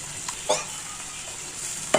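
Water hits a hot pan with a steady hiss and sizzle, a few soft clinks of utensils breaking through.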